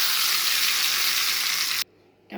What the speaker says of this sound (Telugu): ఈ పప్పులో పోపు పెట్టేస్తున్నా.